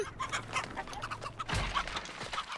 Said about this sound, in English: That that chicken going crazy up there.